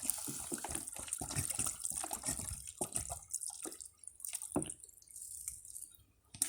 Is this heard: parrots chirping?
no